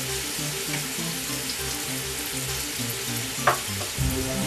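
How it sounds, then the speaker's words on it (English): Onions sautéing in a pan for a lentil dish, a steady close sizzle and crackle of frying throughout, with a couple of brief clinks or stirring knocks toward the end. "I'm going to put my onions in. While these are sauteing,"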